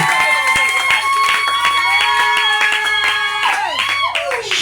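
A church congregation at a worship service claps and cheers in praise, with rhythmic hand claps and voices over sustained music tones, fading into a swirl of acclaim at the end.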